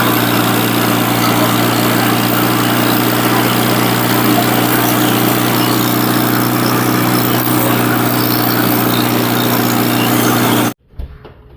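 A petrol lawn mower engine runs loud and steady for about eleven seconds, a continuous close-up drone that cuts off abruptly near the end.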